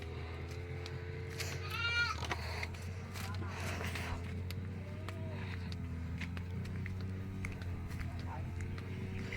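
Goats bleat now and then on a farm, a few wavering cries near and farther off, over a steady engine-like drone and some background chatter.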